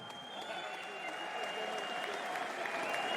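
A crowd at a PFL Europe MMA event in Lyon applauds and cheers a fighter, a sustained wash of clapping and crowd noise heard from a distance, steadily swelling.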